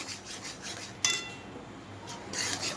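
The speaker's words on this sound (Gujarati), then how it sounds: "કન્ટિન્યુઅસલી તમારે આ તબેતો ચલાવતા રહેવાનું છે." Semolina (rava) being stirred continuously as it roasts in a pan for sweet sheera, soft repeated scraping strokes with one sharper metallic clink, close but quiet.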